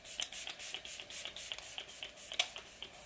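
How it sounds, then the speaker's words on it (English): Professional Super Setter makeup setting spray misted onto a face in a series of quick, soft hissing spritzes, about a dozen short bursts in close succession, close and fairly quiet with no talking. "I'm gonna go in and set my face with the Professional Super Setter Spray."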